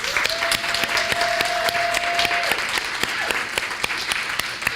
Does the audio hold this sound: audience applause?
yes